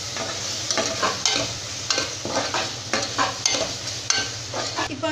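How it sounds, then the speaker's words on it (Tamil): A spoon stirs red chilli powder and coriander powder into chana biryani in a hot pan, giving repeated scraping strokes over a steady sizzle of frying, close and moderately loud with no talking. "நல்லா இந்த மாதிரி கலந்து விட்டுடலாம்."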